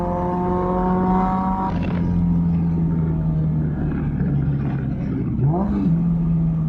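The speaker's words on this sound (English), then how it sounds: "you have to give it a fair bit of a blip on the downshift" A Caterham Supersport race car engine drones steadily, then gives a quick throttle blip on a downshift with a short rising-and-falling rev near the end, close and loud with no talk.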